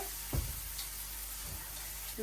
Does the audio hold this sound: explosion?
no